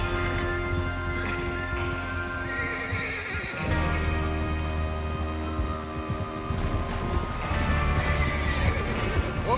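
Horses neigh and whinny in Red Dead Redemption 2, with hooves clip-clopping and rain falling on an outdoor Western scene. Several whinnies rise over a steady bed of hoof and gear noise.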